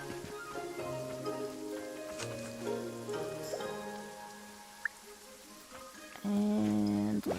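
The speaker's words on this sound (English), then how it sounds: "Oh no, is it raining today?" Rain falling in the farming video game Starsand Island, a soft steady patter underneath layered game music with chiming melodic tones and a brief bright blip near the end.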